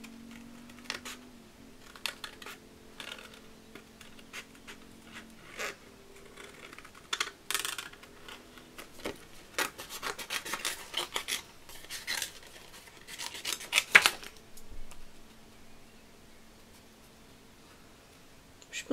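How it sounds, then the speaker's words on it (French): Quiet, close snips and clicks of precision scissors cutting around a stamped design on a card, coming in irregular small bursts with soft rustling of paper between them. "on va s'amuser à couper ça avec un ciseau de précision"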